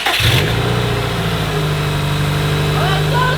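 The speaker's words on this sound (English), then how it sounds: "That is a smooth sounding engine right there" A Subaru WRX engine cranks and catches after a battery charge, then settles into a steady, loud idle with a low throbbing hum, close by and continuous.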